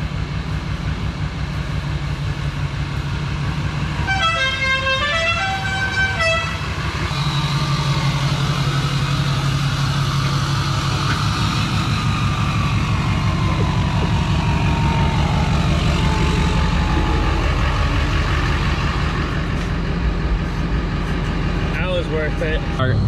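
A loud aftermarket vehicle horn bought from Amazon blares a short, wavering musical call for a couple of seconds, set against a constant rumble of engine and road noise.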